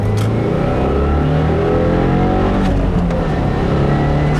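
A 2015 Subaru WRX with a Maperformance stage 1 setup pulls hard at full throttle in second gear on a rainy, foggy day. Its loud, close engine roar climbs steadily, with a few brief sharp crackles partway through and no voices.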